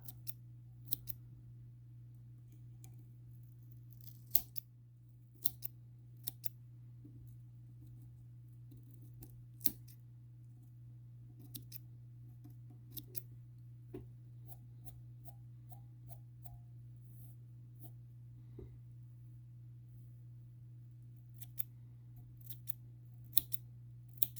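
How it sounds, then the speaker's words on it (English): Small fly-tying scissors trim a Goddard caddis trout fly, giving a long series of faint, crisp snips spaced irregularly over a steady low hum, with no talking. "And then kind of angled cut on the sides where it's longer towards the back, shorter towards the front."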